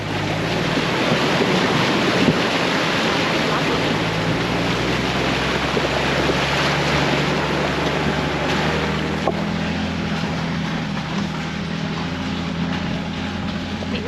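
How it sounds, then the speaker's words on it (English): A van lurches through a steep, rocky water crossing on an outback dirt road, with steady loud engine drone, sloshing water and wind rumble throughout, no clear talk. "Another little water crossing."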